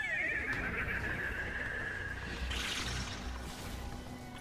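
A person imitates a horse's whinny, a high wavering neigh that slides downward, followed by a brief breathy snort.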